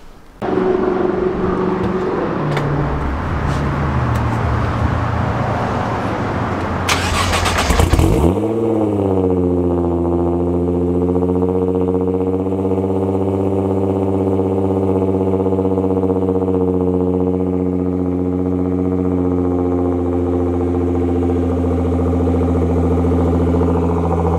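A Nissan GT-R engine revs and accelerates loudly and close, then settles into a steady, rumbling idle that holds for the rest of the clip, with no voices.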